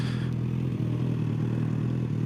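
A Suzuki GSX-S 1000 motorcycle engine held at a steady mid-pitched drone during a tight, quick turn, loud and close with little change in pitch.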